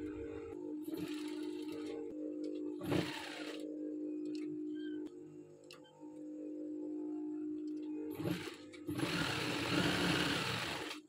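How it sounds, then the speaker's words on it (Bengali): A sewing machine stitches the neckline of a child's dress in a few short whirring bursts separated by quiet pauses, close by and moderately loud, with no talking. "এখন আমি এখান থেকে আবার সেলাই করে নেব।"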